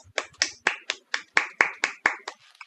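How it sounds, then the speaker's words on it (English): Participants in an online inter-school quiz contest clap together, about ten sharp, evenly spaced claps in a steady rhythm, close and clear with no talk. "A clap for everyone."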